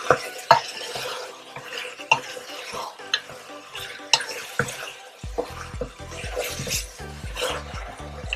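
Salted pork ribs stirred in a pot for a potato and rib stew, with a spoon scraping and knocking against the pot in irregular strokes amid a soft wet sizzle.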